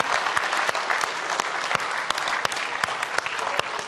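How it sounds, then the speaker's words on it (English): A conference crowd gives Sophia the humanoid robot a thick, continuous round of applause after an onstage conversation, with steady clapping and a few sharper claps standing out throughout. "A round of applause for Sophia, folks, for making Journey"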